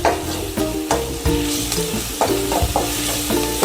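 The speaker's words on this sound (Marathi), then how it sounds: "त्याला छान परतून घेते।" Chopped onion and crushed green chili sauté in a hot pan as filling for aloo paratha, a soft sizzle broken by repeated scraping stirs close by.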